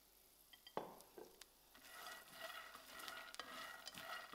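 Nuts fry in a few drops of oil in a pan, a soft steady sizzle with light stirring scrapes and clicks, quiet and close.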